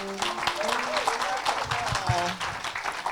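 Church congregation applauding to acclaim the Lord, a steady wash of clapping from a crowd lasting a few seconds, with a voice speaking and faint musical tones underneath.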